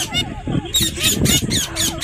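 Parrots of various colours kept at a bird market squawk loudly nearby in repeated harsh cries, with a person talking underneath.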